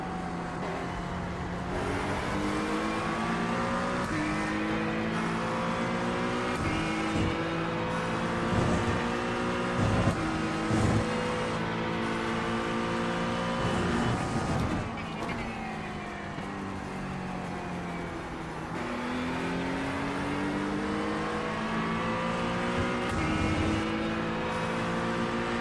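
A GT3 race car engine in iRacing at Mugello roars steadily throughout, its pitch sweeping up and down through gear changes and corners, loud and close with no talking.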